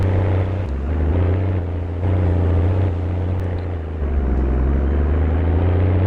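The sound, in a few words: vehicle engine in video game Farming Simulator 19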